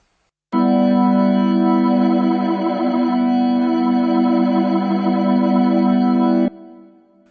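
A SampleTank 2 synth patch with a stretch effect holds one sustained, bright, chorus-tinged tone for about six seconds, starting abruptly and cutting off with a short fading tail.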